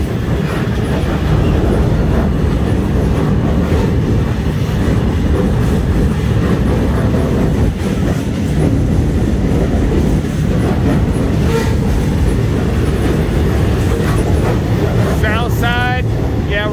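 Steady rumble and rattle from inside a moving train, continuous and fairly loud, with a short stretch of voice at the end.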